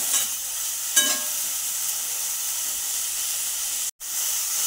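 Capsicum fries in oil in a pan for a homemade pizza topping, a close, steady sizzling hiss that holds evenly throughout, broken by a brief cut of silence near the end.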